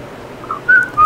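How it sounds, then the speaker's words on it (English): A person whistles two short, bright notes in quick succession, close and clear over a faint background hum. "Stop whistling."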